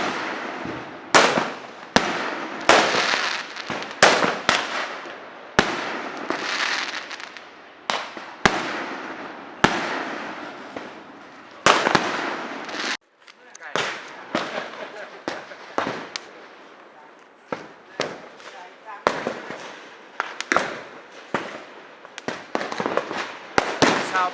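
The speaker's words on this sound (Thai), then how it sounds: "ออกมาจุดประทัดแล้ว จุดพลุกันอย่างสนุกสนานเป็นการเฉลิมฉลอง" Strings of firecrackers and fireworks go off at a Hmong New Year festival in a mountain village in Mae Rim, Chiang Mai, with dense, rapid cracking and popping in repeated volleys, sharp reports standing out, a brief lull midway and faint voices.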